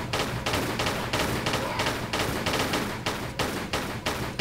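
Rapid, steady pistol fire from Tomb Raider IV: The Last Revelation in Cleopatra's Palace, about a dozen loud, evenly spaced shots in a continuous rhythm.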